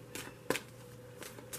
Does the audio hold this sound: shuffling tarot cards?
yes